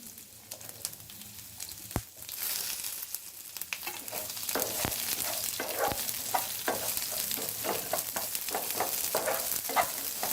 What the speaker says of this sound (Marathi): आता कांदा घालू. आलं आणि लसूण घालू.